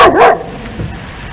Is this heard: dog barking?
yes